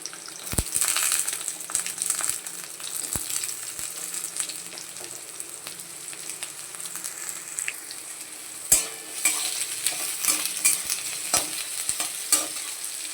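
Thinly sliced potato frying in a pan, a continuous close sizzle broken by sharp spatula taps and scrapes against the metal, with no talking.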